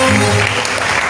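A congregation claps during a charismatic Catholic renewal gathering in a church, a dense, loud burst of applause filling the whole short moment.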